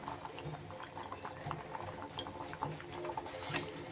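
Khichuri with turmeric and cane jaggery being stirred in a cooking pot, a low bubbling simmer with soft scraping and light clinks of the spoon against the pot, faint and close, without speech.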